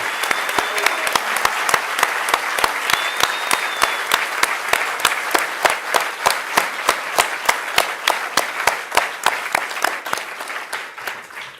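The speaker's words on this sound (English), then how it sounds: "So please, a round of applause" An audience at a NASA mission talk claps at length, dense steady applause with sharp individual claps standing out near the front, tapering slightly toward the end.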